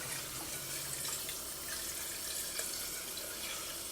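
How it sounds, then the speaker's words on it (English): Tap water running into a sink as a coffee cup is rinsed, a steady, even splashing hiss that lasts throughout, with no talking. "I'm just going to rinse it with water"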